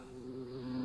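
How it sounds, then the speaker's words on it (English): Bees buzz in a steady, close drone with a slightly wavering pitch, filling the short moment without any talk. "It can't be bees? At this time of year?"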